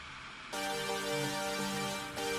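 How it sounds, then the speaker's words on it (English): A Detente detuned saw synth, pitched an octave higher, sounds a bright sustained chord that shifts slightly and is retriggered near the end, solo and steady. "This is Detente, which is also a detuned saw"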